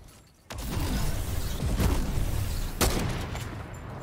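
Two sniper rifle shots ring out in a video game: a hard crack with a booming tail, then a second sharp report about two seconds later, over steady battle ambience without talking.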